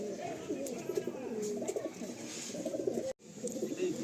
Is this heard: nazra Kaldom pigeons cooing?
yes